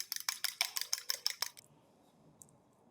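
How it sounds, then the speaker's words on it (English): Two eggs are beaten with a whisk in a bowl, a fast run of about ten sharp metallic clicks close by, then quiet with one faint tap. "whisk 2 eggs and add them to the sauce"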